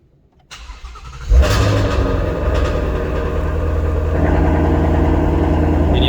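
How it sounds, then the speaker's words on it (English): Ford Mustang engine, 2020 GT350R alongside a 1966 289, cold starting: a short starter whir, then the engine catches with a loud bark and settles into a steady, rumbling fast idle close by. "Gonna go ahead and do a cold start here."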